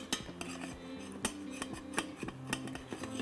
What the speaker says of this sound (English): Deglazing, all that means is just scrape up all that flavorful browning bits at the bottom of the pot.